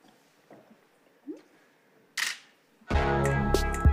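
Camera shutter clicks during a photo shoot with a curvy model: a few faint, scattered clicks, then a sharp burst and a sustained loud mechanical run of shutter sound near the end, no talk.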